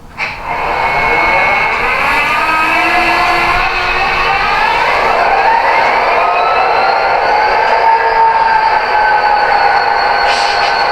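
An Athearn model locomotive fitted with a Tsunami 2 sound decoder runs its startup sequence, a loud steady diesel rumble and whine that ramps up and settles into a continuous idle with shifting tonal layers.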